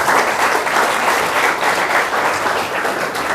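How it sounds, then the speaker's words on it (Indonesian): A school audience at SMK PGRI 1 Denpasar gives loud, dense applause, many hands clapping together in a sustained, even wash from start to finish. "Tepuk tangan untuk PGRI."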